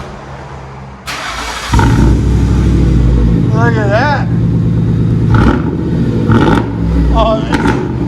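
A 2003 Mercury Grand Marquis with true dual straight-pipe exhaust cranks to life and settles into a loud, deep, steady rumble with slight swells of revving, close by, while someone talks briefly over it.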